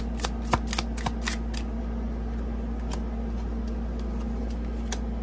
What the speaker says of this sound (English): I want to get another one on this because I didn't really shuffle.